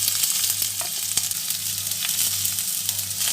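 Chopped onions sizzle steadily in hot white oil in a wok, a dense, continuous frying hiss with a few faint stirring clicks and no talk.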